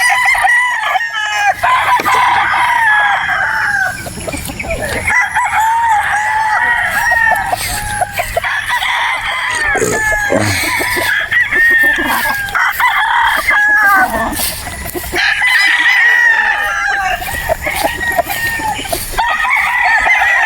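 Sweater gamefowl roosters crowing at a game farm in Batangas, with loud, overlapping cock-a-doodle-doo calls repeating almost continuously, close by and layered with clucking.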